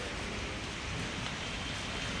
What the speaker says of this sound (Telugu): కొంచెంగా వర్షం కూడా పడుతుంది